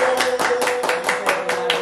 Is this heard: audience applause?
yes